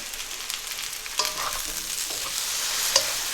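Mushrooms frying in a pan, a continuous close hiss of sizzling oil with a few light utensil taps and clinks scattered through, no one speaking.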